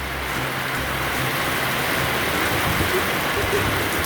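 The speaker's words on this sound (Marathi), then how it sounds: "बघा कसा जोरदार पाऊस पडतोय खूपच जोरदार पाऊस चालू" Heavy rain from Cyclone Tauktae pours down steadily, a loud dense hiss of water hitting surfaces with no pauses for the full few seconds.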